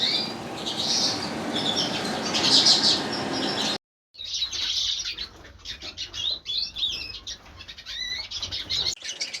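Small birds chirp and tweet continuously in an outdoor aviary, with occasional wing flaps and a brief gap of silence partway through.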